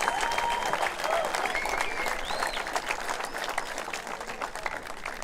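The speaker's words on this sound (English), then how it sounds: "Give Emilia a big applause" Crowd applause at a men's softball European championship opening ceremony in Denmark, a continuous patter of many hands heard at a moderate distance, with some voices and a few whistles or cheers mixed in.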